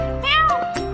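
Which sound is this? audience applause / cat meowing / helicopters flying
cat meowing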